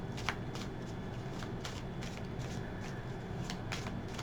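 Cards are shuffled for a card reading, a continuous close riffling and flicking with quick rhythmic bursts of rustle, heard alone and fairly quiet.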